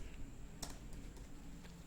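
A few soft, scattered keystrokes on a computer keyboard while typing Bootstrap badge code, faint and close under a steady background hiss.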